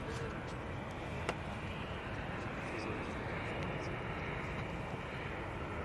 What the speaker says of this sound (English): And there's that 737-800 off to Prague